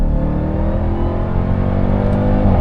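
A 2021 Dodge Durango Hellcat engine pulls hard in third gear around 4,500 rpm, a loud, steady, rising roar heard from inside the cabin with no talk over it.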